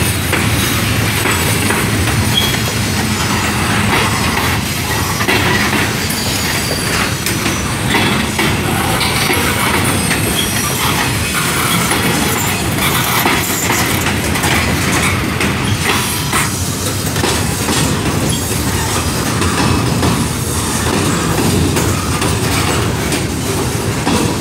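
CSX and NS freight trains roll westbound past Amity Street, a distributed power unit among the locomotives, giving a loud, continuous rumble with rhythmic wheel clatter and occasional squeal, with no talk.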